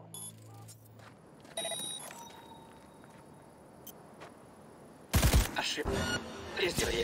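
A single sudden, loud gunshot from a Militech weapon firing on its own in the video game Cyberpunk 2077 bursts out after quiet ambient hum and a few faint tones, followed by a dense, noisy tail of sound.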